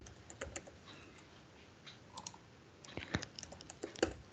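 Typing on a computer keyboard during app development work: scattered soft key clicks with brief pauses, then a denser burst of louder keystrokes toward the end, close and alone with no talk.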